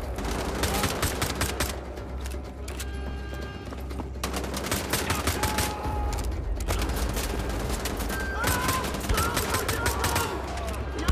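Gunfire in the Wolfenstein video game, rapid and near-constant bursts of shots that fill the soundscape, loud and close, over a dense rumble of game noise.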